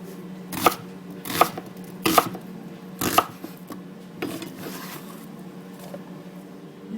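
Onions and peppers are chopped on a board, with about five sharp knife strikes spaced unevenly and close by, followed by quieter softer cuts and light handling sounds.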